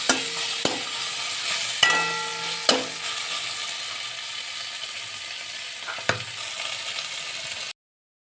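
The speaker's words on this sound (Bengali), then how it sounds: "আর একটু ভেজে নিচ্ছি সামান্য" Boiled potatoes fry in hot oil while being stirred, a steady close sizzle broken by a few sharp utensil scrapes and clicks against the pan, then an abrupt stop.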